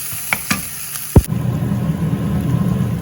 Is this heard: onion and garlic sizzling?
yes